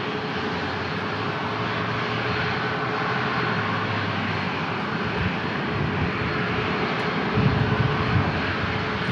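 An airplane climbs steeply away from San Diego International Airport after takeoff, its engine roar steady and loud throughout, with a dense broadband rumble that swells slightly near the end.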